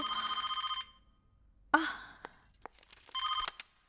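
A telephone bell rings in two loud bursts of rapid electronic trilling, separated by a pause filled with a gasp, faint voices and small household noises.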